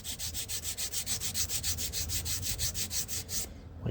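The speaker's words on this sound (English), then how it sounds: "you sand until the line is just starting to disappear." Rhythmic back-and-forth rasping of an edge sander on balsa wood, about two strokes per second, close and fairly quiet, stopping near the end.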